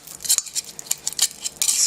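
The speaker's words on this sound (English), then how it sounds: "scrape it off with a knife" Metal knife scraping pie crust dough from the edge of a mixing bowl, a quick series of light, close scratchy strokes and clinks with no talking.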